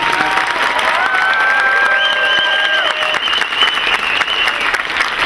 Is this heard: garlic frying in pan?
no